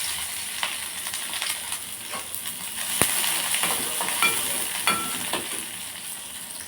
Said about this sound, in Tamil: கடுகு பொரிஞ்சிருச்சுங்க. வெங்காயம் ஆட் பண்ணிக்கலாம்.